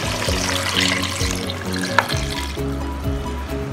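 Second coconut milk pours into a simmering drumstick and mango curry, a continuous liquid gurgle and splash at close range with a single sharp clink midway.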